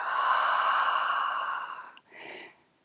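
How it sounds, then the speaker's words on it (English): A long, airy, throaty ujjayi exhale through the mouth with a soft hissing constriction at the back of the throat, followed by a second, shorter breath out, close and quiet. "Exhale, make that fogging sound out of the mouth and sense the constriction in the back of the throat."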